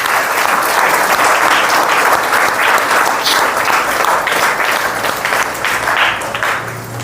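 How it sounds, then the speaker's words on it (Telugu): Church congregation clapping together at a Telugu Christian service at a Marian shrine, dense sustained applause filling the room, loud and steady throughout with a slight fade at the end. "వాళ్ళందరూ చప్పట్లు"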